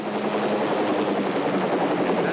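A pink-painted helicopter flies overhead, its rotor and engine producing a loud, steady, dense roar that fills the whole moment without a break.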